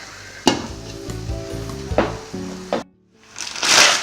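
Meat and egusi sauce cooking in a pot, a soft continuous sizzle broken by several sharp scrapes and knocks of stirring, a brief near-silent gap, then a louder hiss returning at the end.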